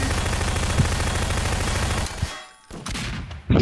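Rapid automatic gunfire from the video game Prop Hunt rattles in a loud, continuous burst, breaks off briefly, then resumes in short bursts.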